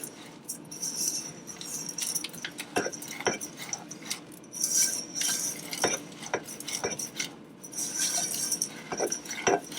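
Caramel being stirred in a pot while cooking, with repeated scraping and clinking of a utensil against the pot's sides in irregular bursts, close by.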